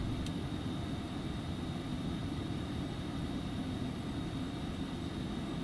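Steady, loud engine drone of an Embraer Phenom 300 (EMB-505) business jet climbing after takeoff in the X-Plane 11 flight simulator, a continuous broadband roar with no talk.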